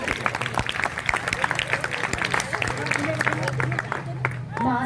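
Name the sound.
audience clapping at a poetry gathering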